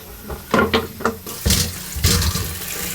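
Water runs and splashes in short bursts while raw mangoes are washed for pickle, loud and close with uneven gushes and pauses.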